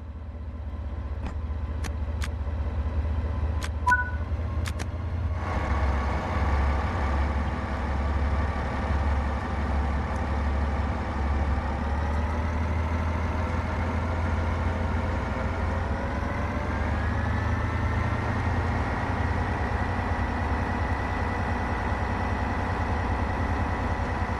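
A BR 363 diesel shunting locomotive in Train Sim World 3 on the Tharandter Rampe, Dresden–Chemnitz, runs with a steady low engine drone whose pitch climbs as it revs up, after a few brief clicks at the start.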